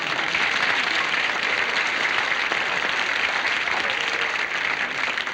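A studio audience at a comedy show breaks into sustained applause after a joke, with steady, even clapping filling the whole stretch at moderate loudness.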